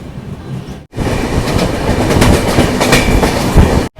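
A passenger train pulls out of Sainthia station on a Kolkata to Nagaland journey, its wheels clattering in a loud steady rhythm heard from inside the carriage, briefly cut off at start and end.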